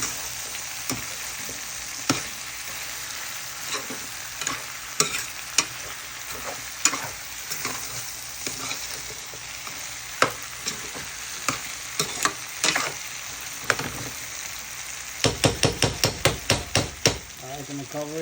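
Seim and eddo curry simmering with coconut milk in a pot, a steady wet sizzle with repeated spoon stirs and scrapes, ending in a quick burst of clattering taps against the pot.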